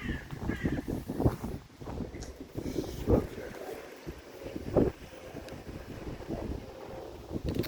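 Gusty wind buffets the microphone with low rumbling bursts, rising and falling irregularly throughout, with a few brief sharper thumps.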